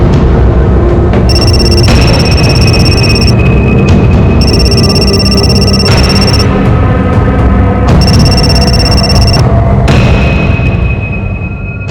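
A phone rings repeatedly, electronic ringtone bursts of a few seconds each with short gaps, loud and close over a constant background drone.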